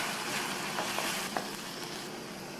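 Chopped tomato sizzles and fries in a masala base for a brinjal dish, a steady loud hiss with a few soft scrapes of stirring, close and without talk.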